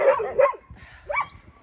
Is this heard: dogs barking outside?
yes